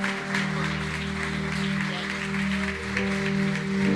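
A church congregation applauds at a service, a dense, loud sustained wash of clapping with a steady low hum underneath, no voices.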